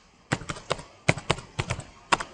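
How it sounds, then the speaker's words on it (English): Typing on a computer keyboard, close and clear: short bursts of crisp key clicks in quick clusters with brief pauses between, no voices. "when you start typing that"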